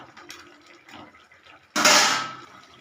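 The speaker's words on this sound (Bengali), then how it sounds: "মশলাটা কষানো হয়ে গেছে, এবার জল ঢেলে দেবো" Masala for mustard-poppy pabda fish is cooking in a pan when water is suddenly poured in, a loud rushing splash near the end after quieter kitchen clatter.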